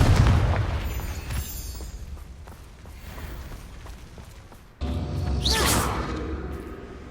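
Confringo fire-blast spells exploding in Hogwarts Legacy, a loud boom with whooshing bursts at the start, quieter crackle after, then another strong blast with a rising swoosh near the end.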